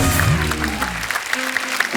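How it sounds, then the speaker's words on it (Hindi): An audience at a stage event for the film Gulmohar breaks into loud applause, a dense clatter of clapping that fades over about two seconds. "एक बार जोरदार तालियां हो जाए"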